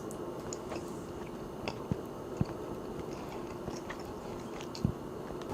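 Chewing homemade sweet Italian sausage, soft close mouth sounds with a few sharper bites scattered through, quiet and without talk.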